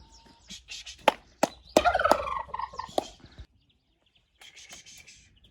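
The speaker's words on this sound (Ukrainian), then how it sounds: "Та заганяю кури, там закрию." Turkeys gobble in loud, sharp bursts close by, with rustling and clucking, a short pause, then more calls trailing off.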